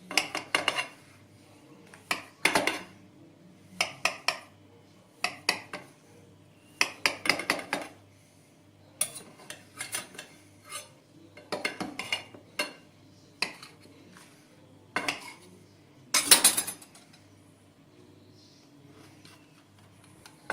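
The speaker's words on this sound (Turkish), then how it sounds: "Şöyle kekimi keseceğim. Ve servis tabağıma alacağım arkadaşlar." A soft homemade cake is sliced and lifted onto a serving plate, with a knife and utensils clinking against the tray and plate in short, irregular bursts of scraping and tapping.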